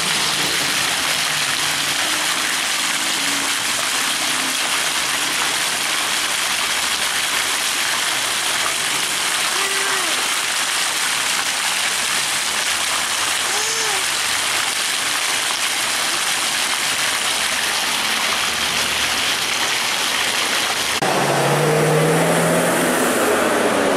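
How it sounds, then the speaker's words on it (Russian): Outdoor water fountain splashing in a steady, loud, continuous rush, with faint traffic and distant voices underneath. "Йо, фонтан!"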